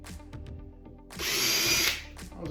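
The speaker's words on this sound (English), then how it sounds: "I go back and drill through it, or drill down in it." A power drill bores into wood during bench building, a single loud burst of whirring lasting under a second, framed by quieter workshop clatter before and after.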